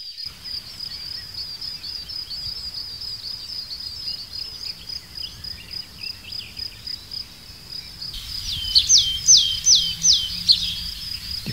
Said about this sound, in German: Unter der Meisenschar gesellen sich auch Sumpfmeisen.